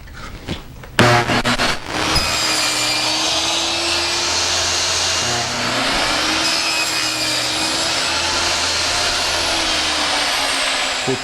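Power saw cutting through a pallet board, a sharp start followed by a steady loud buzzing whine that holds for about nine seconds with a slight dip midway.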